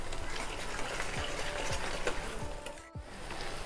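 Masala roasting on high flame in a pan for Chettinad chicken, a steady close sizzle and frying hiss throughout with occasional stirring scrapes, no talk.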